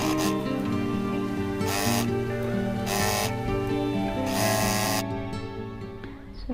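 A sewing machine stitches fabric for a foldable shopping bag in short repeated bursts of fast mechanical whirring, close and fairly quiet, with a tonal motor hum and pauses between runs.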